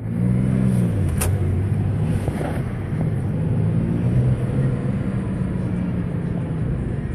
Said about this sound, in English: That's loud exhaust on that one.